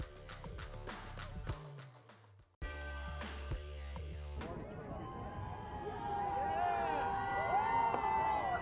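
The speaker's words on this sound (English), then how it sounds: "Flying high, cheering Eagles fans welcome their Super Bowl champions back home to Philadelphia today." Eagles fans in Philadelphia cheer and whoop as a crowd welcoming home their Super Bowl champions, a loud, continuous roar that follows a burst of music and swells toward the end.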